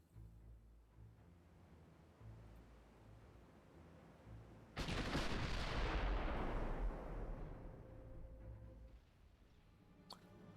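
Naval gunfire in the game Ultimate Admiral Dreadnoughts: after a quiet low rumble, a single loud broadband blast swells and rolls on for a couple of seconds before fading back to a faint hum.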